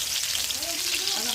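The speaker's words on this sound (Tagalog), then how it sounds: "Dahil mainit na po ang ating mantika, lalagay na po natin ang ating bawang." Chopped garlic sizzles and crackles in hot cooking oil, a steady, close frying hiss that lasts the whole moment with no voices over it.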